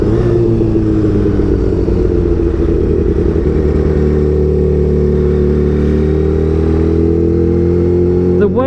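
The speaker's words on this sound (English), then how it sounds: "The way the supercharger spools up, oh my good God." A Kawasaki Ninja H2 on a test ride gives a loud, sustained engine drone with a rising supercharger whine that climbs steadily through the run, close and continuous.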